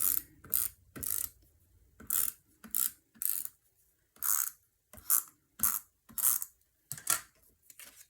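Tape is pulled off a dispenser for a fold pocket card in short, separate ratcheting tearing bursts, about a dozen in quick succession with silent gaps, close and clear, no talking.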